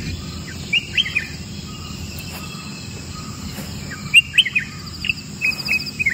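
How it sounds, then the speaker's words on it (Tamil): Small birds sing in an island forest, brief high chirps and short whistled phrases scattered near and far over a steady background drone of insects and crickets. "சின்ன சின்ன பேர்டோட சவுண்ட் எல்லாமே நம்மளால் கேட்க முடியும்."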